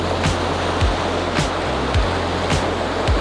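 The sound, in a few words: windy day by the sea with waves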